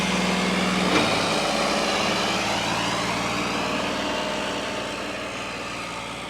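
A modified New Holland 5620 CRDi tractor engine runs in a low gear with a steady, droning mechanical hum that slowly grows fainter, with no voices.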